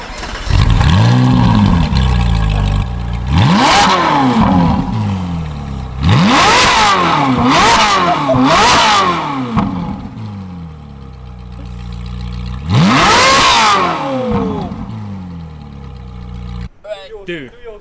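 A supercar engine in Hong Kong revved hard several times, loud and close, each rev rising sharply and falling back toward idle, with a quick double rev midway and a pause before a final burst; a voice speaks briefly near the end.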